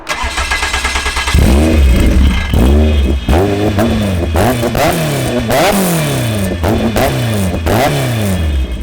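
A loud Caterham 620R sports car exhaust revs again and again, sharp rising and falling engine bursts one after another, close up with no talking.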